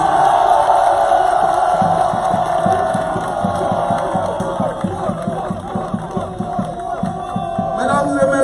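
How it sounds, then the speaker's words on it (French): An audience at a political speech in Côte d'Ivoire cheers and acclaims loudly, a dense roar of voices with whoops and rhythmic clapping, swelling again near the end. "je demande que vous acclamiez cette belle tirade de musique"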